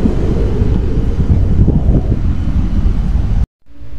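Steady wind buffets the microphone with a low, rumbling roar that cuts off abruptly near the end.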